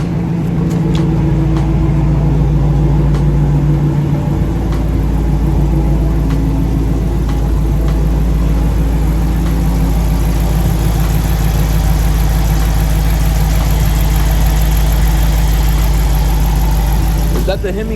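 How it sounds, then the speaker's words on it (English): A 2018 Dodge Challenger Widebody Hemi V8 idles loudly and close with a steady low rumble and a faint repetitive ticking; a voice speaks over it at times. "Is that the Hemi tick? Maybe that's the Hemi tick."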